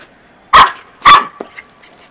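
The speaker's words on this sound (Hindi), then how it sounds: "भौंक क्यों रहे तेरे ऊपर" A street dog barking twice in loud, sharp bursts about half a second apart, followed by a couple of softer yelps, close by outdoors.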